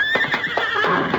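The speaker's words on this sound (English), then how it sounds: "Steady, Silver. Horse, come this way." A horse neighs close by in a short, loud, quavering whinny that rises and falls over about a second, with no talking over it.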